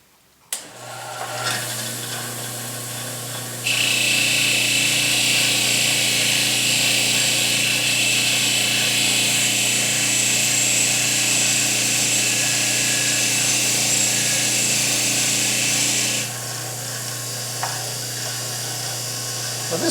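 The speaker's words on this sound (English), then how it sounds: "When you're working with the wire wheel" A wire wheel on a power tool scrubs an iron head, a loud steady whirring grind that runs unbroken for most of the stretch over a constant motor hum, then drops back to the idling motor near the end.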